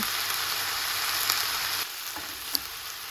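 Chopped green beans sauté in hot oil with tempering spices, giving a loud, continuous close sizzle that eases slightly partway through, with a brief scrape of stirring. No voices are heard.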